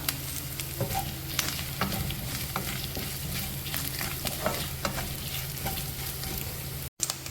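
Onion, coconut and dried red chillies fry in hot oil, crackling and sizzling steadily while a utensil stirs and scrapes the pan in irregular strokes. The sounds are close, with no voices.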